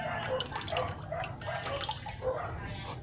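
Water drips steadily past a float valve in a tank, with repeated small plinks over a continuous wash of running water, fairly close and moderately quiet.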